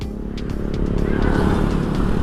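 A Honda PCX160 scooter idles close by, nearly out of fuel, with a low, steady engine rumble throughout.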